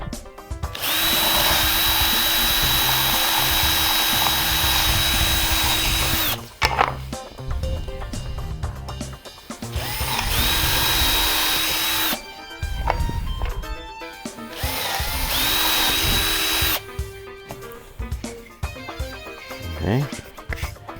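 A power drill bores holes into a piece of wood in a workshop, three long loud whining bursts separated by short pauses filled with handling clatter and footsteps.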